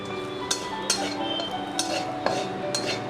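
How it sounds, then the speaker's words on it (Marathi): A spoon stirs and scrapes food sautéing in ghee in a kadhai over low gas, with steady background hiss and a few distinct clinks of utensil on metal at irregular intervals, no voices. "हे थोडंसं कमी गॅसवरच परता, छान परतून घ्या जरा"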